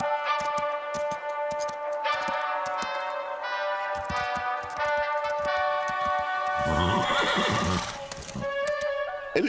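Cartoon horses training at a riding stable, with several high, wavering neighs and whinnies over a steady, light clip-clop of hooves, clear and close.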